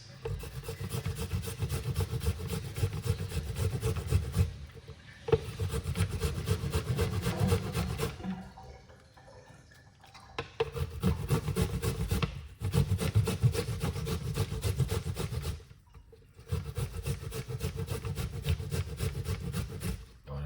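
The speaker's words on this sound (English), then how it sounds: "Grate a piece of the ginger in it like this." Fresh ginger is rubbed against a grater in long, rasping scraping bursts, close and fairly loud, broken by a few short pauses between strokes and with no talking.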